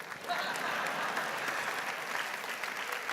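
Steady applause from a live audience, a continuous dense patter of clapping that holds at an even level for the whole stretch with no talk over it.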